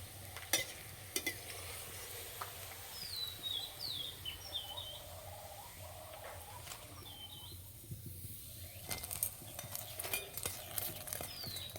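Ripe jackfruit fritters fry in hot oil with a soft, continuous bubbling sizzle and occasional clicks and stirring knocks, heard at a low level with no talk.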